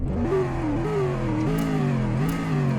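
A 2021 Amigo car engine in the game Greenville revs up and down several times in a continuous, fairly loud mid-pitched drone with rising and falling pitch.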